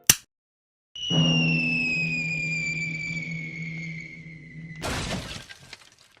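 A falling body crashes through a neighbor's wet bar: a sharp crack, then a long descending whistle, and a loud burst of shattering glass near the end with tinkling debris afterward.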